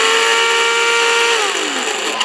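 Small FT007 RC boat electric motor whining at full throttle, a steady high-pitched buzz with stacked tones that drop in pitch near the end as it winds down, close and loud, no talking.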